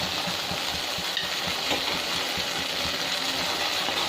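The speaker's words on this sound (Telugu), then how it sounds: "కాజు పన్నీరు ఇది కొంచెం ఫ్రై అయ్యాక మీడియం ఫ్లేమ్లోనే ఫ్రై చేసుకోండి" Cashew and paneer frying in oil in a pan over a medium flame, a steady broad sizzle running evenly throughout with a low bubbling texture and no speech.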